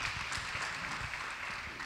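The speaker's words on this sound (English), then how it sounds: "We could clap for him." A youth conference audience claps for a young man, a steady, dense wash of applause filling the whole stretch at moderate distance, with no clear voices over it.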